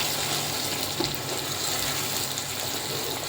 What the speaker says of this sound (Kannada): ಇದು ಮಸಾಲೆ ಸ್ವಲ್ಪ ಚೆನ್ನಾಗಿ ಫ್ರೈ ಎಣ್ಣೆಯಲ್ಲಿ ರೋಸ್ಟ್ ಆಗಬೇಕು